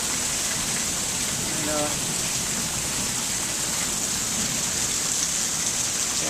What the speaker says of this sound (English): Some of this sideways rain was pretty serious.